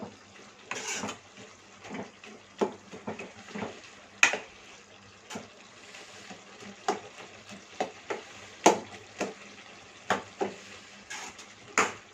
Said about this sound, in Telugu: ఒక 2 మినిట్స్ పాటు ఇలా కలుపుతూ ఉండండి